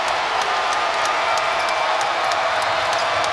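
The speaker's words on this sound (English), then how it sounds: "This crowd trying to urge on NC State." Basketball arena crowd roaring in support of NC State, a broad and continuous wash of cheering and applause with scattered sharper claps and shouts, loud and sustained throughout.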